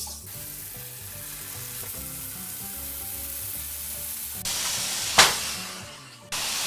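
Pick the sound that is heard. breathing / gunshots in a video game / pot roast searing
pot roast searing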